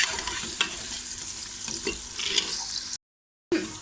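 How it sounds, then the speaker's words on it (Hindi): Onions frying over medium heat in a pan for keema matar, a soft steady sizzle with scraping stirs and occasional clinks of the spoon, briefly cut to silence near the end. "दरमियानी आंच पे करना है, प्याज को ज़्यादा फ्राई नहीं करना।"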